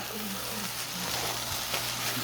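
Pork and egg fried rice with sauce being stirred in a pan, a steady broadband sizzle with faint scraping and stirring noises running continuously at close range.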